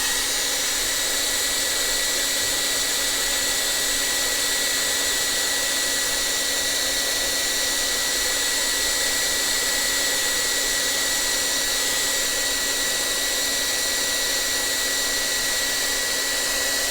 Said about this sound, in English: And I'm going to get out my hair dryer.